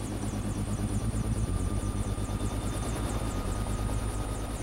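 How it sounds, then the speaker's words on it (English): A Mercy Air medical helicopter flies over the Mojave desert, its rotor thudding in a fast, even pulse beneath a high turbine whine, steady and close throughout, with no voices. "the Mercy Air crew based at Mojave is testing a new helicopter for their desert area"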